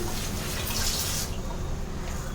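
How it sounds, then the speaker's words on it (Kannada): Strained tamarind juice, about a lemon-sized lump's worth, pours steadily into a pot of cabbage and toor dal sambar, making a continuous splashing, gurgling liquid stream close by with no talking. "ಹುಣಸೆ ಹಣ್ಣಿನ ರಸವನ್ನು ಒಂದು ನಿಂಬೆಹಣ್ಣಿನ ಗಾತ್ರದಷ್ಟು ಹುಣಸೆ ಹಣ್ಣನ್ನು ಕಿವುಚಿ ಇಟ್ಕೊಂಡಿದ್ದೆ ಅದನ್ನು ಕೂಡ ಇವಾಗ ಹಾಕ್ತಾಯಿದ್ದೀನಿ"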